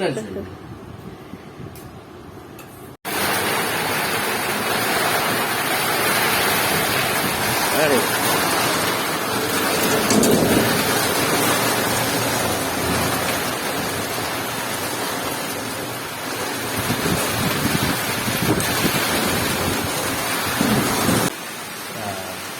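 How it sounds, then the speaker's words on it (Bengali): Heavy monsoon rain pours in a dense, steady hiss that starts abruptly after a few quieter seconds and continues unbroken and loud for the rest of the time. "বর্ষাকালে বৃষ্টি অবস্থা"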